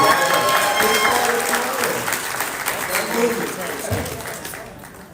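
A crowd at a DragonCon 2025 panel claps and cheers loudly, the applause fading gradually over a few seconds.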